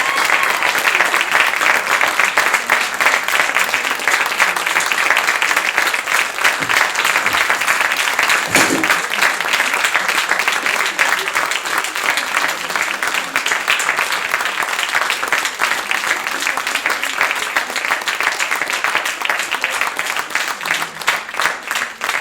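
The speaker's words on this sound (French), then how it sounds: "Je pense qu'on peut les applaudir bien fort, ils ont eu peu de répétition." Sustained applause from an audience for young performers, dense steady clapping filling the room for over twenty seconds with no speech over it.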